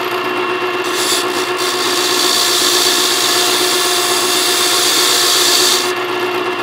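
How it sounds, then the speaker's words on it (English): A freshly cut metal key is run through a soft brush on a key-cutting machine to clear burrs. The result is a loud, continuous rubbing and whirring rasp lasting several seconds, with no voices. "we're going to put it on our softy brush here, and we're just going to run it through"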